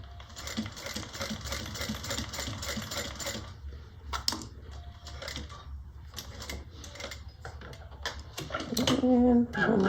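A sewing machine stitches a handmade bag in a home workshop, its motor buzzing steadily for a few seconds before stopping. Short mechanical clicks and handling noises follow, with a person speaking nearby.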